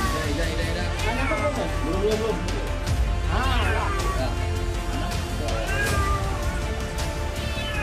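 A cat trapped in a well in Jambi meows repeatedly after being rescued by firefighters, its rising and falling cries standing out over a murmur of onlookers and outdoor noise.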